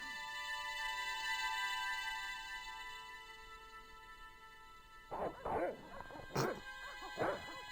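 Guard dogs in the Broken Sword point-and-click game yelp and bark in several short, fairly close bursts near the end, after a stretch of steady ringing game music.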